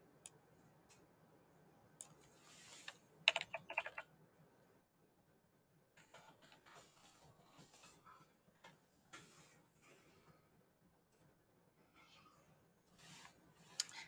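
Computer keyboard keys tapped while entering a password, scattered quiet clicks coming in small irregular clusters, close but faint.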